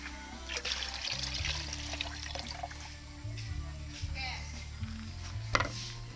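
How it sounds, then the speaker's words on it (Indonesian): Young coconut water poured out of the freshly opened fruit makes a steady liquid splash and trickle, with a low droning tone running underneath throughout. "Kita masukkan airnya."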